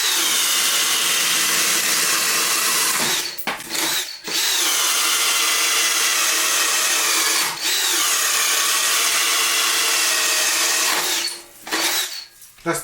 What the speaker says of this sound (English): I have a 1-inch spade bit. We're going to be drilling a hole.